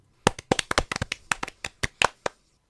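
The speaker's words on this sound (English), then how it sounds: "Let's all give Tom a round of applause." A few pairs of hands clap in an uneven, sparse burst of sharp, close claps lasting about two seconds in a radio play, with no talk over them.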